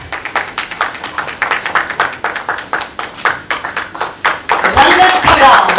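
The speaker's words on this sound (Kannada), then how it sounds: "ಚಪ್ಪಾಳೆ ಬರಬಹುದು." Audience at a Kannada film launch event for Rangasthala claps in a quick, even rhythm that builds into fuller applause near the end, with voices mixed in.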